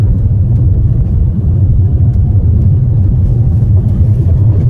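A manual car pulls along an empty straight road in second gear, giving a steady, close engine rumble with road noise throughout and no talk.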